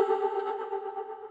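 A short vocal sample processed with a stutter effect in Ableton rings out alone, a bright sustained tone with a faint fluttering chop that fades slightly over about a second.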